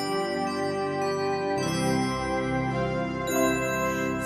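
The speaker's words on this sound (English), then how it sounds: "Just listen for those silver bells." Bells ring and shimmer with bright sustained tones, layered with soft chimes, over steady music-like resonance; no voices.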